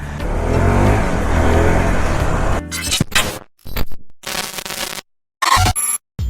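A restored Bajaj Pulsar NS 200 BS3 motorcycle engine revs loudly and close for a couple of seconds before the sound breaks into choppy, cut-up bursts.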